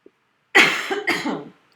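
A single sharp, loud cough in two quick bursts, close up, with silence before and after.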